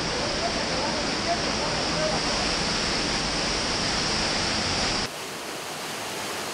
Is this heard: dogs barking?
no